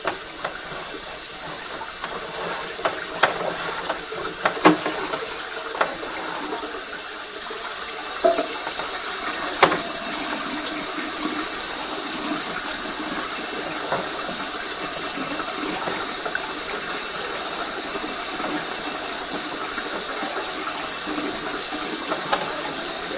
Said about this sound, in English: Now I'm going to get the water going again.